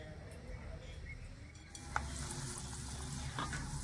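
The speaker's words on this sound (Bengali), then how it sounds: "ছাকার মধ্যে নিয়ে এভাবে করে একটু ভেজে নেবো" Steady sizzling of peanuts frying in oil in a strainer, with a few light scraping and stirring clicks from a utensil, close up and continuous throughout.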